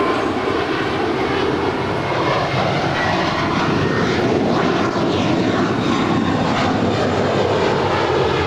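A JetBlue airliner passes at LAX, its engines making a loud, continuous roar that holds steady and close throughout, with no voices.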